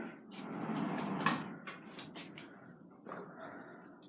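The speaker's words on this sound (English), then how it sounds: "It's a sliding door." A hotel room's sliding door rumbles open along its track, followed by a few light clicks and thumps, fairly close, with a person breathing and murmuring nearby.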